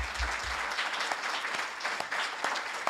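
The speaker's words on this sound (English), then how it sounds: "Give them another round of applause." Audience applause at a public meeting introducing candidates, a lively round of clapping with a few sharper individual claps standing out, lasting about three seconds.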